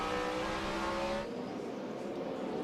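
On-board engine of the Budweiser Chevrolet stock car at a NASCAR race, the 2006 Subway 500: a steady, loud, high-pitched engine drone at sustained revs that drops in tone partway through, with no voices.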